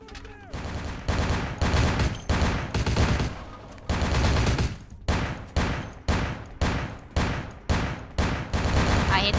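Rapid gunfire in the video game Vampire the Masquerade: Bloodlines, loud bursts of shots repeating in a fast rhythm with short gaps between them, close and dominant for the whole stretch.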